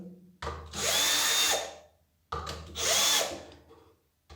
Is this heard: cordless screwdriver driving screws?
yes